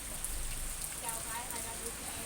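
Rain falling at Ban Thap Luang in Nakhon Pathom, a soft, steady hiss of drops on surfaces that stays faint and even throughout with no voices.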